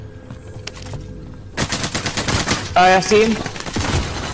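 Bursts of rapid automatic gunfire in the battle royale game Call of Duty: Warzone, loud and close, with a player talking over the shooting.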